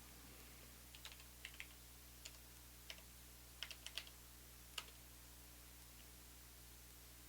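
Computer keyboard keys pressed to enter a password, a few scattered soft clicks in small clusters over a steady faint hum of background noise, close by and quiet, with no talking.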